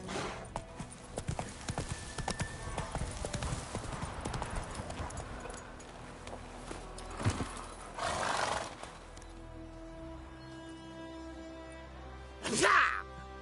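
Roach the horse in The Witcher 3 clopping along in steady hoofbeats, then two loud neighs near the end, with game effects and faint background sounds underneath.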